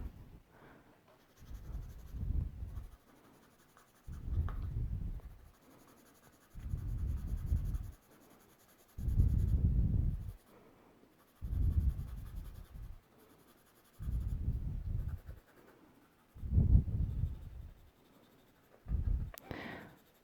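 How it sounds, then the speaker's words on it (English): Colored pencil shades in black on paper in steady back-and-forth scratchy strokes, bursts of roughly a second repeating about every two seconds with brief pauses between, close and clear. "So try not to let your color pencil get streaky or splotchy."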